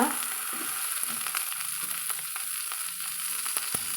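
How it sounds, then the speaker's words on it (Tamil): Chopped tomatoes sautéing in an oil-filled pan for a spicy mixed-vegetable chutney, giving a steady close sizzle with scattered crackles and occasional scrape ticks, no voices. "தக்காளி சேர்த்து வதக்கலாங்க"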